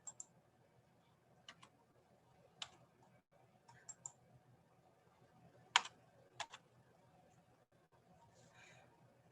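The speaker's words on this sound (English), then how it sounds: "Darn it, I can't type." Sparse, quiet keystrokes on a computer keyboard tick and click irregularly in a hushed room, with uneven gaps between presses and a few slightly louder taps.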